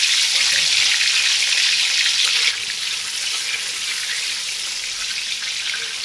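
Potatoes sizzle in hot oil in a pan for a spicy mutton curry, a steady bright hiss that softens slightly partway through and carries on alone.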